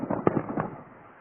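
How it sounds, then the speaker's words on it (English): Fireworks burst over a residential area in a quick cluster of muffled pops and booms that fade into a rumbling tail. "We got fireworks in our yards to watch"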